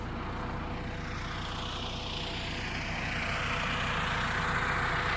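An MTZ tractor fitted with counterweights lifting a 900 kg load: a loud, continuous engine drone rumbles evenly throughout, slightly rising toward the end, with no voices.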